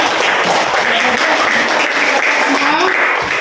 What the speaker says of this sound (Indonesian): tepuk tangan itu yang semua telah memberikan tanggapannya